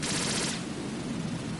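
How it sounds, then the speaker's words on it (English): Sustained automatic gunfire from a weapon in the video game Metal Gear Solid 2, a loud, dense, continuous burst of rapid shots with no pauses and no voices over it. "if I hold this gun out, will it fire automatically? Yes, it will."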